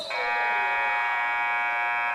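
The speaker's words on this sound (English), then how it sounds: "Foul called as the buzzer goes off." Loud, sustained electronic buzzer sounds in a gym during a varsity girls' basketball game between Trinity and Triton, a steady harsh tone of about two seconds.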